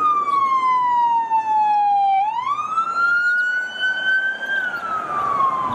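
A toy police car's single-tone electronic siren wails steadily, slowly sliding down and then up in pitch, loud and close with a bright, toy-like tone.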